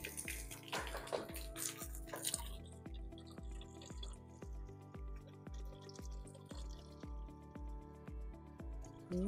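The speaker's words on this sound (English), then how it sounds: "top up the washer bottles on vehicles I work on" Water is poured into a vehicle's windscreen washer bottle, giving a steady, quiet gurgling trickle with rhythmic glugging pulses and a brief splashier burst at the start.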